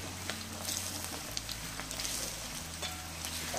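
Corn and shrimp fritters sizzle in hot oil, a steady crackling hiss with scattered pops that runs continuously and close, with a low hum underneath.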